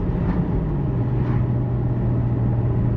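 A BMW 1M's engine drones loud and steady from inside the car, a dense low growl that climbs gradually under load without any talking.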